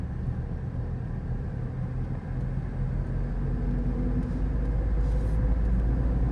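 A learner driver's car engine hums steadily at low revs, a continuous close rumble that builds slightly in loudness over the last few seconds as the throttle is gently pressed.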